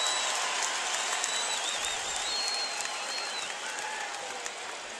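Basketball arena crowd at a Louisville versus Hartford college game cheering and applauding steadily, a dense, loud wash of claps and cheers that holds for the whole stretch with a slight fade toward the end.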